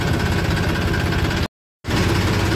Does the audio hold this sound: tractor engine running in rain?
yes